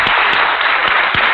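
A dense, steady burst of applause from a crowd, many hands clapping at once in a continuous wash of sound.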